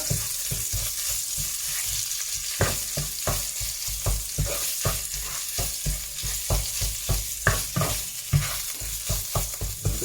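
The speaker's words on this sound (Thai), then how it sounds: "จะผัดพริกแกงก่อน" Red curry paste and pork belly stir-fry in a pan for a curry-paste bean dish, with a steady close sizzle broken by frequent scraping clicks of a spatula, and no voices.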